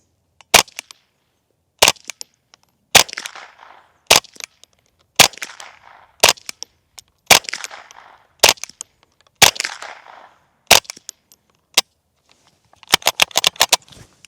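A .22 rifle on a 16-inch barrel fires through a Dead Air Mask 22 suppressor, alternating supersonic and subsonic rounds. Eleven sharp, evenly spaced cracks, some trailed by a short outdoor echo, end in a quick cluster of rapid shots.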